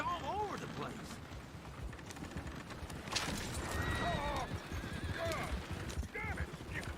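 Several horses whinny and neigh amid clip-clopping hooves and coach noise in the video game Red Dead Redemption II, with voices talking over the commotion.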